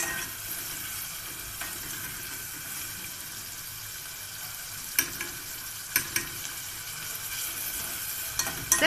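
Pigeon gizzards fry steadily in a pot, making a constant close hiss of sizzling oil with a few sharp clicks and scrapes of stirring near the end, and no one talking.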